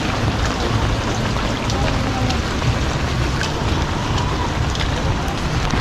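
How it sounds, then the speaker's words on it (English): Steady rain in Manila during the rainy season, a continuous dense hiss of drops on surfaces close by, fairly loud and unbroken, with occasional faint voices beneath it. "And the rain, like, it picks up and it drops off."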